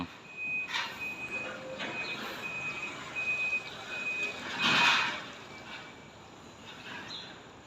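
A forklift loading pallets near a parked truck sounds a repeating high reversing beep at a steady pace over a low engine rumble, with occasional louder mechanical clanks in the middle.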